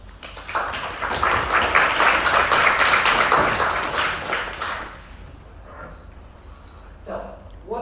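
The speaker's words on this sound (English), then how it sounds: "And also a round of applause to those two people." An audience at a math integration competition final claps in a dense round of applause that fades after about four seconds, followed by quieter scattered sounds.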